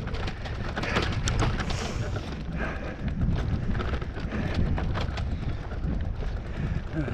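Strong wind blows in a Scottish glen on an off-road cycling route between Loch Etive and Kinloch Rannoch, roaring and buffeting close to the microphone in continuous gusts with rumbling low-end noise and no voices.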